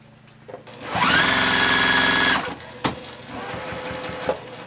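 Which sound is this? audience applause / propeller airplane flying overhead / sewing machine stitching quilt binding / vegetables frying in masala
sewing machine stitching quilt binding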